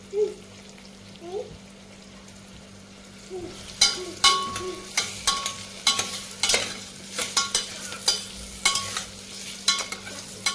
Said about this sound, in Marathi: बटाटे टाकायचे आहे आणि तेही आपल्याला तेलात परतून घ्यायचं आहे